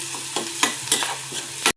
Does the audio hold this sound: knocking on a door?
no